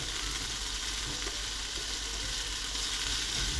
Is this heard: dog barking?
no